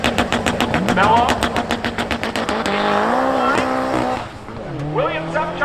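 Race cars launching at a spectator drag race at Seekonk Speedway, including a 2017 Subaru WRX, engines revving hard through rapid gear changes, loud and close, with an announcer talking over the roar.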